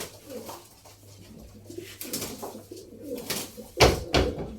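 Pigeons coo softly in low, repeated murmurs, with background rustling and a couple of louder knocks toward the end.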